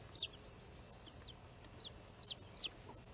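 Chicken clucks sound as a few short, high, separate calls scattered across the stretch, over a steady low background hum, with no talking.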